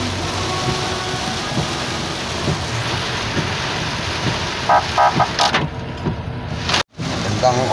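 Typhoon Carina pounding Bulacan with heavy rain and gusting wind, a loud, continuous rushing roar close to the microphone that cuts out sharply for a moment near the end.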